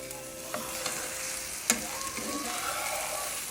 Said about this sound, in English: So using a spatula, I'm gonna go ahead and try to flip this one.